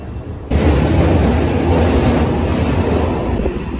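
A train at a London station rumbles loudly past with a steady roar, metallic wheel squeal and a clickety-clack rhythm, close by and continuous.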